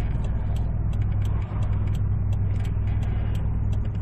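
A 1997 Hyundai Galloper 2 engine running with the accelerator pressed, a steady loud low drone with a brief dip partway through and faint ticking on top, heard up close without talk.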